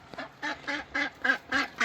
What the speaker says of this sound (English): Make sure all the ducks make it in.